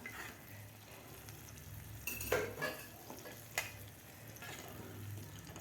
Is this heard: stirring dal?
yes